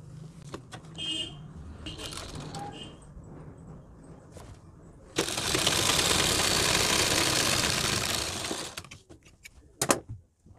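A sewing machine stitching a folded sleeve hem runs in one steady, loud mechanical burst of a few seconds, with softer handling taps and rustles of fabric before and after.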